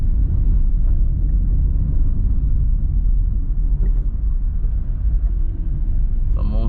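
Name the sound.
road traffic on Red Hills Road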